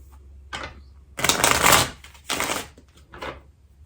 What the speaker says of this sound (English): Should give it a shuffle.